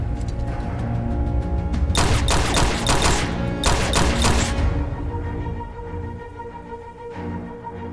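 Pistol gunfire in a film rings out in two rapid bursts of loud, close shots, each a cluster of sharp cracks lasting about a second, followed by a quieter stretch of rumbling background.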